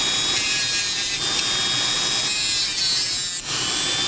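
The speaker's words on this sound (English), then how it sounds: "I'm just going to grind this area here." A power grinder works a metal battery clip for a Mavic Pro drone battery, a steady, harsh high-pitched grinding close by that continues without a break, dipping briefly near the end.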